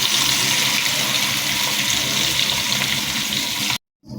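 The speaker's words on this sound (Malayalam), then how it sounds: "ഇതുപോലെ അപ്പച്ചട്ടിയൊക്കെ വെച്ച് വെളിച്ചെണ്ണയൊക്കെ ഒഴിച്ചിട്ട് അത് ഞാൻ ഫ്രൈ ചെയ്യാൻ" Prawns frying in coconut oil in an appam pan give off a loud, steady, dense sizzle that runs unbroken and then cuts off abruptly near the end.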